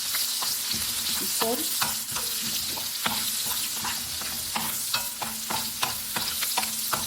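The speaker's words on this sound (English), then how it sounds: "So here is our oil. I'll be adding in our onions." Onions sizzle in hot oil as a peppered snail dish is cooked, with a steady frying hiss broken by repeated stirring scrapes and clinks of a utensil. A voice briefly speaks over it.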